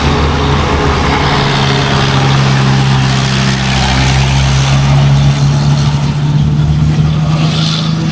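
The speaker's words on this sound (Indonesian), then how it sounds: "Ini motor saya nih." A motorcycle engine runs steadily at close range on a mountain road at Pusuk Sembalun near Mount Rinjani, a loud constant low drone with a slight rise in pitch partway through.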